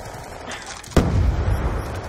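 A single loud gunshot burst in the video game Black Ops 2 during online multiplayer, a sudden boom followed by a rumbling tail over game ambience.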